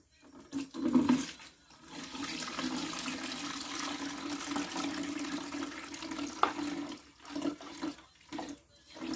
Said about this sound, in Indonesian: jadi kita tuang semua sampai tinggal endapannya aja